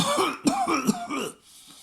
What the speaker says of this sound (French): Une crise de toux l'interrompit encore.